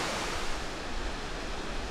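Water plunges from a great height at a waterfall along the route from Pokhara to Jomsom in Nepal, making a steady, dense broadband roar with no voices.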